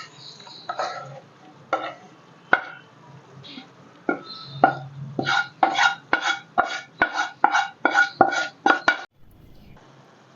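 A spoon mixing soaked plum cake ingredients in a vessel, with irregular scrapes and knocks at first that settle into a quick, even run of close stirring clinks, then stop.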